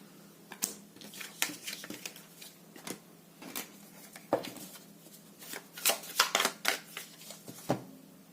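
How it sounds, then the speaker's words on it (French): Tarot cards are shuffled close by in quick, irregular bursts of crisp riffling and slapping, with short pauses between, no talk. "Je mélange tout avant de commencer le dernier choix"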